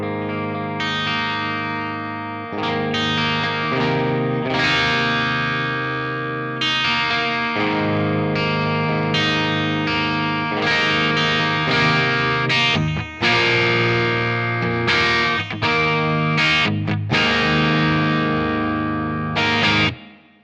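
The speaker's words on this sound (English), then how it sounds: "it is a Plexi style channel, so it does actually drive up." Electric guitar through a TONEX capture of a Plexi-style amp channel, driven into crunchy distortion, plays chords and riffs continuously and loud, with a chorus-like shimmer and no talking.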